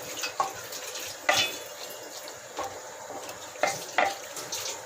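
Masala being stirred in a cooking pot for Lahori beef paya, a low continuous sizzle broken by several soft scraping and clinking strokes of a spoon against the pot, no talking.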